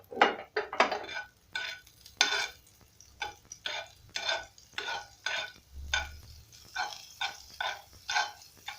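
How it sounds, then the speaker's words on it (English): Margarine melting in hot cooking oil in a pan while potatoes and sausages are cooked, with soft sizzling under repeated scraping and stirring strokes of a utensil against the pan, no talk. "Then once that is also hot, I'll go in with my margarine."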